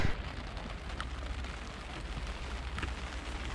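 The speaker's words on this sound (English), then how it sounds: "Another rainy day on the wet coast." Steady rain pattering on a sailboat moored on a wet coast in winter, a dense continuous hiss with scattered sharper drops, fairly close and even throughout with no talking.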